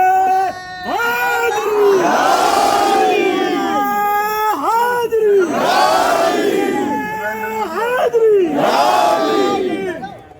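A large crowd at a religious rally at the Ajmer Dargah shouts slogans in unison, three loud, drawn-out call-and-response chants rising and falling over about ten seconds, dense and near with many voices.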